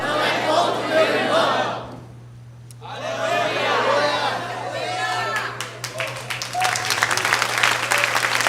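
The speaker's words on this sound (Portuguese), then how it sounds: "Essas palmas desse microfone vai sair horrorosas" Church congregation applauding, picked up through the church microphone: loud, thick clapping that breaks briefly, then surges back with cheering and voices mixed in, ending in sharper, more distinct claps.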